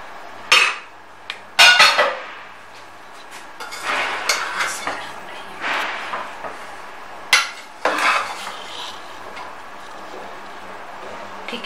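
Potato rice (aloo wale chawal) scooped from a cooking pot onto a plate, with sharp metal spoon clanks and scrapes against the pot, then softer scattered taps and rattles of serving, close and loud with no talking.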